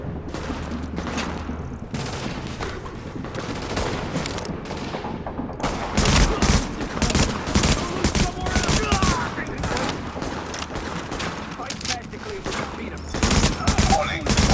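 Sustained shootouts in The Division video game: rapid volleys of rifle and machine-gun fire crackle in repeated loud bursts, sparser at first and then nearly continuous through the second half.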